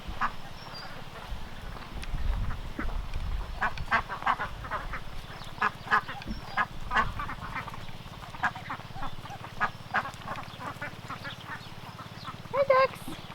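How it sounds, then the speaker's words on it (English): Ducks on a small permaculture homestead quack in short repeated bursts, close and clear over a low steady hum, with a person speaking briefly among them. "Hi, ducks."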